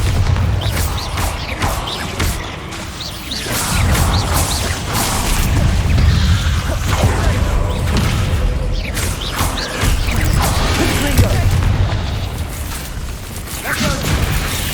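Repeated Bombarda spell explosions in Hogwarts Legacy, loud booming blasts and crashing debris that come in bursts amid heavy game effects, with a voice shouting spell names.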